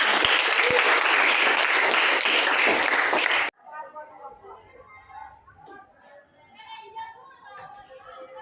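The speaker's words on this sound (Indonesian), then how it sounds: "tepuk tangan kita semua" A classroom audience of children applauds loudly for several seconds, dense and close. The clapping cuts off abruptly, then faint children's voices and chatter continue.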